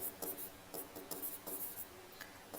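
Short strokes of writing on a classroom board come in quick bursts, faint and close, with brief pauses between marks and no talk.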